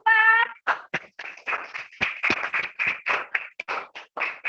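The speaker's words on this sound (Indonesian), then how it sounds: "sekali lagi kita berikan tepuk tangan kepada kelompok 4" Classroom applause for a student group during a lesson, heard as a run of uneven, close claps after a short tonal chirp at the start, with no talk.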